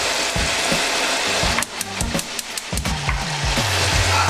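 Shrimp frying in a pan over medium heat, a steady close hiss of sizzling oil with scattered pops and clicks of the pan or utensil moving throughout, no talking.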